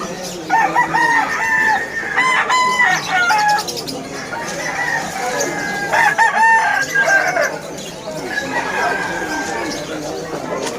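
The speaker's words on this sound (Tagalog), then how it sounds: "Ito yung mga manok." Roosters crow repeatedly nearby amid clucking chickens at a weekend morning pet market, with people talking underneath throughout.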